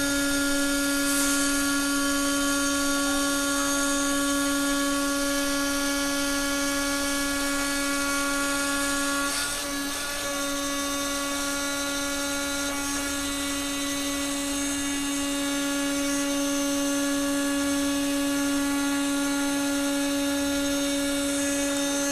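An oscillating blade cutter slices through a UV flatbed print, giving a steady, high-pitched mechanical whine with sharp tonal hum that runs unbroken and fairly loud throughout, with no voices.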